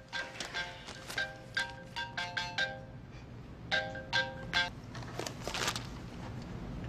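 A mobile phone ringtone plays a bright, repeating electronic melody in short rhythmic bursts of chiming notes, pausing briefly before the pattern starts again, clear and fairly close in a quiet room.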